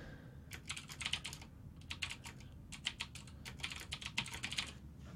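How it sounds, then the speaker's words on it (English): Quick, close clicking of typing on a computer keyboard comes in irregular bursts with short pauses, fairly faint. "for the sake of this example, I will type a couple lists out"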